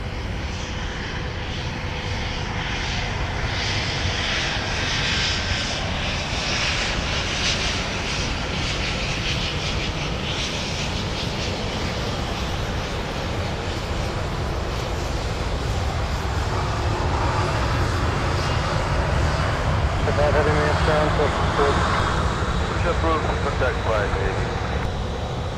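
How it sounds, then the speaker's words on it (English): A close airliner taxis past at MSP airport, its engines a steady, loud, broadband roar and whine that holds for the whole stretch and swells slightly near the end. "We get super close taxis here at MSP."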